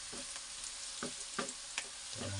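Sliced bitter gourd fries in a pan of oil with a faint, steady sizzle close by, broken by several soft clinks and scrapes of stirring.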